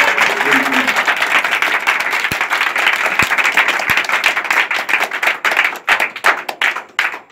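A church congregation applauds with loud, sustained clapping from many hands, thinning out into sparser, separate claps toward the end.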